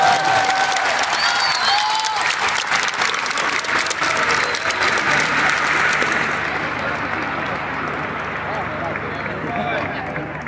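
A large concert crowd applauds loudly and steadily for a singer invited on stage at a show in La Plata. The clapping stays dense throughout and eases slightly toward the end.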